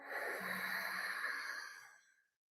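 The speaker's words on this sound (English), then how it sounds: "It's an ocean breath. So you're creating a wave sound." Ocean breath inhaled through the nose with a slight throat restriction, one long soft wavelike rushing breath that swells and fades over about two seconds, close and alone.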